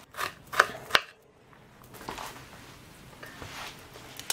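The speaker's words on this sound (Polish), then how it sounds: "Teraz przejdę do obrania sobie cebuli i również kroję na drobno" A knife finely chopping onion on a cutting board: a few crisp, close taps at the start, then softer, quicker cuts continuing unevenly at a lower level.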